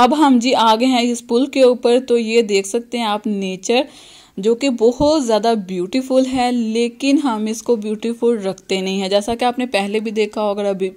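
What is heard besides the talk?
None of the usual background noises is heard.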